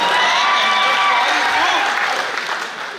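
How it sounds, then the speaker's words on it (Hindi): Sustained audience applause at a trilingual poetry recital held for the Ichalkaranji municipal corporation's anniversary, a dense steady clapping crowd throughout, fading slightly toward the end with some voices mixed in. "तालियां बजा रहा है, दाद दे रहा है"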